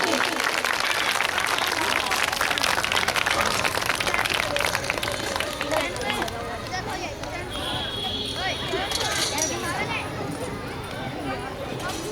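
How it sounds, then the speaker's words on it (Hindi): Dense, sustained audience applause at a stage event, loud and continuous, with the clapping thinning slightly toward the end and a few voices and cheers mixed in. "जोरदार तालियां बजती रहनी चाहिए, रुकनी नहीं चाहिए।"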